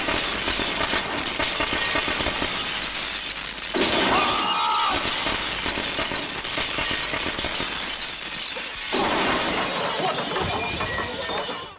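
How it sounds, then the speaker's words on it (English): Glass shatters loudly as a stuntman crashes through a glass ceiling onto a display below in a Jackie Chan film stunt, with sustained breaking and tinkling debris in bursts over about twelve seconds, backed by a film soundtrack. "crashing through a glass ceiling onto a display below"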